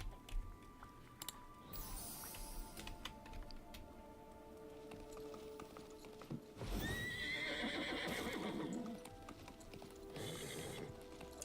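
Horses neigh and whinny in the Disney Dreamlight Valley video game at Wishblossom Ranch, with hoof clip-clops and soft chewing; one loud whinny rises midway over quiet ambient game sounds.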